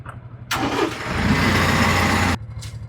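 A tractor engine runs while it powers a winch during a sliding door install at an off-grid cabin in the woods. A loud, steady mechanical whirring roar kicks in abruptly, holds for about two seconds, then cuts off, leaving a low engine idle.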